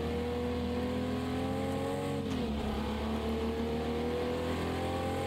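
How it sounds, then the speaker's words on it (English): Jaguar E-Type in Project Cars 2 at Watkins Glen, its engine droning steadily at high revs with a brief pitch dip around a shift before climbing again, loud and continuous with no talking. "this E-Type is just really cool to run."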